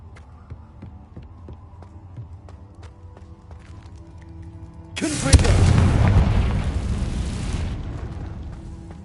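Confringo blasting curse in Hogwarts Legacy, a sudden loud booming explosion with crackling fiery burst after a quiet humming stretch, fading over a few seconds.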